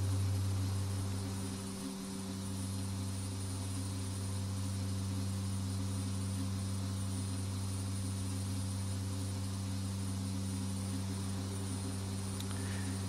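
Steady propeller aircraft engine drone from the X-Plane 10 flight simulator during a climb at about 200 knots, a continuous loud hum with strong low tones running unbroken throughout, no talking.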